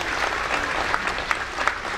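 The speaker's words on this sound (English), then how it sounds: "So we want to give them a big round of applause" Audience applause at an elementary school holiday music concert, a steady wash of many hands clapping with a few sharper claps standing out, continuous and moderately loud for the whole stretch.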